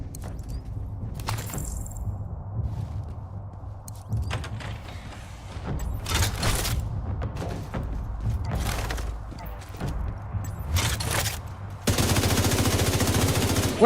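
Gunshots in The Division set in Brooklyn, scattered bursts of mid-distance fire and mechanical clanks across a quiet, shifting game soundscape, closing with a louder, steady burst.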